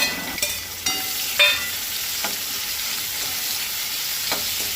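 Chopped onions fry with whole spices in hot oil, giving a steady close sizzle broken by a few sharp pops and crackles.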